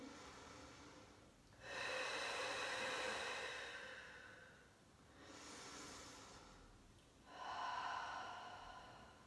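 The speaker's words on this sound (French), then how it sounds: "prenez quelques instants pour respirer" Deep, slow breaths during an intermediate Pilates strength and core session come as three long, airy inhales and exhales spaced a few seconds apart, close and fairly loud with no talking.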